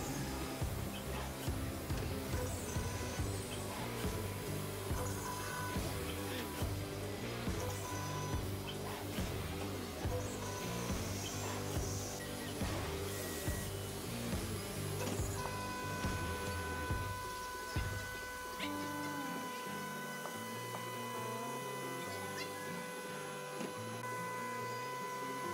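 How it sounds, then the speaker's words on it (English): A 5-axis CNC machine mills six holes and then a circle into a molded plastic arcade game top cover, giving a steady, loud mechanical whir and hum with shifting tonal spindle and motor pitches and no talk. "Our 5-axis op begins with machining 6 holes and then goes right into machining out a circle in the top of the part."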